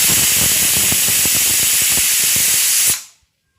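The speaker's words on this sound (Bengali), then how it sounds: "কুকারটা বসিয়ে দিচ্ছি। আমি 3টে সিটি দিয়ে দেবো।" A pressure cooker of boiling fenugreek leaves on a gas stove lets out a loud, steady hiss of steam that cuts off suddenly near the end, leaving silence.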